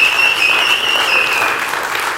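Audience applause at a talk on recovery history, a dense, loud burst of clapping that holds steady and tapers slightly, with a faint whistle-like tone over it.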